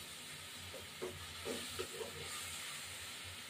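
Water splashed into a hot pan of pointed gourd curry cooked with mustard and poppy seed paste gives off a soft, steady steam hiss with a few faint sizzling pops. It sounds fairly quiet and close, with no talking.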